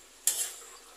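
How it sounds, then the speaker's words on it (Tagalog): A single brisk stir of pakbet vegetables in a pot: one scraping, clattering sweep that starts sharply and fades within half a second, leaving faint background hiss. "Haluin natin konti."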